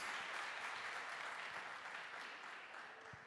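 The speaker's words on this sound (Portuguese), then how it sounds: "aplauda bem forte a palavra de Deus" Congregation clapping during a Portuguese-language church service, a fairly soft, even patter of applause that gradually fades over a few seconds.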